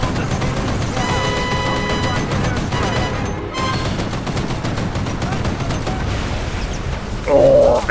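Rapid automatic gunfire in the Mercenaries 2: World in Flames video game as a helicopter is shot down, dense rattling bursts with a brief pause midway and a sharper blast near the end.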